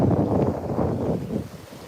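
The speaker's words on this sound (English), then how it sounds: "it's a bit windy" Wind buffeting an outdoor microphone beside a camper, a steady low rumble with gusty swells lasting throughout, loud and close.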